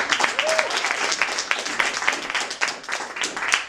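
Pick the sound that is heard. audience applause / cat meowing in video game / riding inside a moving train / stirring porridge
audience applause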